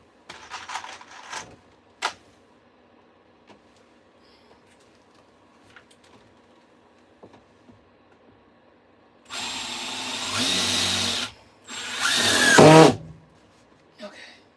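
A power drill drives screws into a van during a tiny-home conversion. After a quiet stretch with scattered clicks and handling noise, two close, loud whining bursts come from the drill, and its pitch rises as it works.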